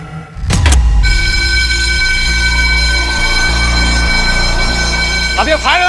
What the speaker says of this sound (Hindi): अब ये फायर अलार्म किसने बजाया?